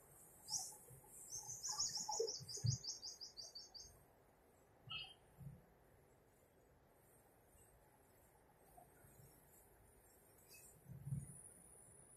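Small birds chirp and tweet in a city creek park in Makati, with a quick burst of high calls early on, then sparse scattered chirps over a steady low hum of background noise.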